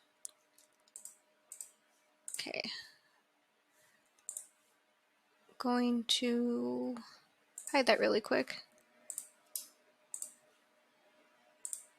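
Computer mouse clicks while selecting objects in Blender, a series of sharp, close, isolated ticks spaced irregularly across the stretch, interleaved with brief spoken remarks.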